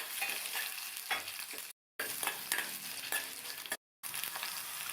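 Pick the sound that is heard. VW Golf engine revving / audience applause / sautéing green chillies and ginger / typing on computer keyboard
sautéing green chillies and ginger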